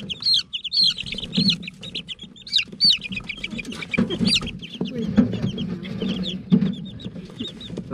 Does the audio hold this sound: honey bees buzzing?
no